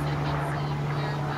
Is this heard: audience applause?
no